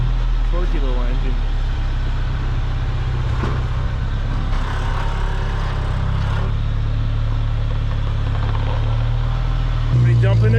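A Ford Bronco's torquey small engine idling nearby with a steady low rumble, while people talk over it throughout.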